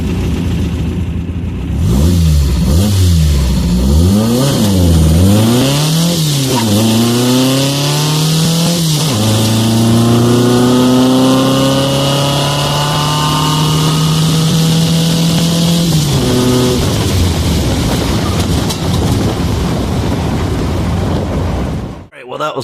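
A car accelerates at full throttle: the engine note rises and drops in repeated surges as it climbs through the gears, then holds a loud, steady high drone before cutting off near the end.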